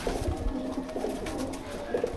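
Salara pigeons coo repeatedly, with soft rolling calls recurring close by over a low steady background.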